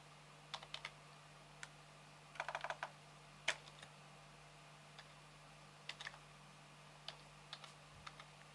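Crisp clicks of typing on a clicky computer keyboard come in scattered short bursts and single taps over a quiet room hum, with no talking.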